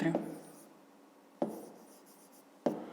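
A pen writes on paper during a math lesson, giving three short scratchy strokes that each start sharply and trail off, with quiet pauses between them. The sound is close and faint.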